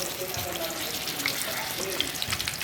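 Tofu frying in a hot pan with pork, garlic and onion nearby in a Filipino home kitchen, a steady soft sizzle with faint crackles and pops, no voices.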